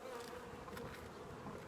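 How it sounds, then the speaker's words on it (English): Bees buzz continuously at a beehive while intruding wasps are fought off, a steady dense insect drone heard up close throughout, with no talking. "we have some wasps that think that they need to intrude into the"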